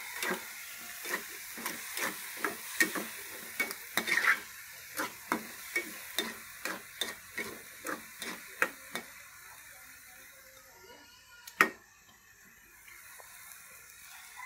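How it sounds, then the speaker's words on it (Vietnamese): Sugar is stir-fried in a small amount in a pan, with a faint sizzle under a regular series of sharp taps and scrapes that slow and fade into quiet, then one last knock. "Mình ăn đường ít thôi thì mình chỉ xào một ít xíu đường."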